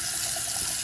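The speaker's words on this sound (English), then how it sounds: "my sink has been draining very slowly, which you can see here" Water from a tap runs steadily into a slowly draining bathroom sink, a continuous close splashing rush with no other sounds.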